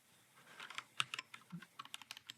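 Keys tapped on a computer keyboard while a folder name is entered for a DIY NAS setup: a quick run of light, close clicks at an uneven pace, fairly soft, with no talking.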